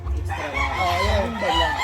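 A gamefowl rooster crows nearby at a breeding farm, one drawn-out crow ringing loudly over a low background murmur.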